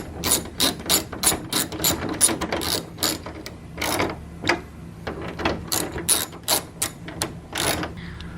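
A ratchet clicks in quick, repeated bursts as 10mm nuts are tightened down on a Ralliart/Evo hood scoop, each stroke a sharp pawl chatter, close and clear with short pauses between runs and no talking.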